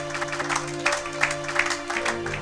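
Applause from a church congregation during a pastor's sermon, a dense patter of clapping running steadily under a faint hum, with no clear voice over it.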